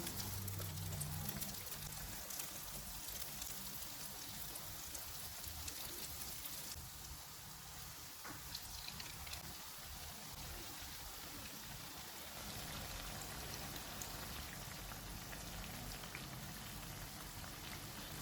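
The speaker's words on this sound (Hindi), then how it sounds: "इसमें चूरोस डालेंगे। इनको गोल्डन ब्राउन होने तक फ्राई करेंगे।" Churros fry in hot oil on a medium-low flame, giving a dense, continuous bubbling hiss that stays close and fairly loud throughout, easing slightly midway and then building again, with no voices.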